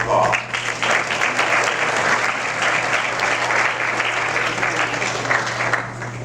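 Audience applause greets a woman called to the stage at a foster care play, a dense, steady wash of clapping that holds loud and even for several seconds over a low constant hum.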